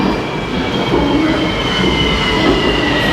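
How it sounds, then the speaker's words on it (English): A Kuala Lumpur Ampang line train rumbles loudly and steadily as it rolls into the station close by, with a high metallic whine from the wheels running throughout. "Oh, here comes my train."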